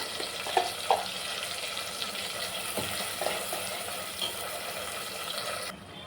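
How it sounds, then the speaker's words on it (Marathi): Masala sizzles steadily as it roasts in oil in a pan for a Maharashtrian drumstick amti, a constant close hiss broken by occasional stirring clicks and no talk. "मसाला आपण छान भाजून घेऊया"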